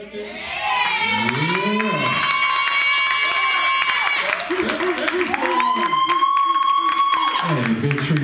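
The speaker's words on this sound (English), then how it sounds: "this crowd is loud" Loud packed crowd at a live basement show, sustained cheering and shouting with whoops, a continuous roar from start to finish that swells again near the end.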